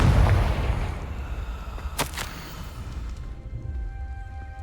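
A Confringo blasting spell goes off in Hogwarts Legacy: a loud, deep booming blast that rumbles and fades, followed by a couple of sharp cracks.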